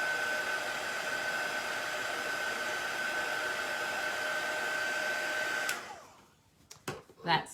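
A hair dryer blows steadily on chalk paste over a craft stencil, a loud, even whooshing drone with a constant whine that cuts off abruptly, followed by a few light knocks.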